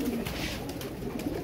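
Pigeons coo softly amid steady outdoor background noise, a few low murmuring calls that are moderately close.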